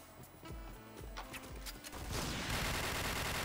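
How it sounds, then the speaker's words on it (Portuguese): Gunfire in a shooting video game, with rapid bursts of shots and thuds ending in a dense sustained volley, loud and close, and no talk over it. "É o mundo da tiro."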